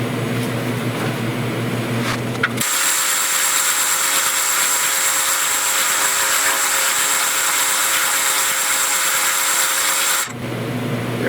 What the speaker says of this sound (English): Let me hit the upper section here one more time with my planishing hammer